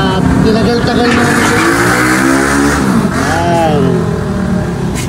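A Yamaha NMAX v2 motor scooter pulls away, its engine revving loudly and rising in pitch close by as it is ridden out of a workshop, with a voice heard briefly.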